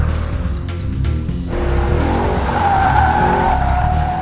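BMW 507 tires squealing while cornering hard on a skid pad, a loud sustained screech over a steady engine drone, the squeal rising and intensifying in the second half.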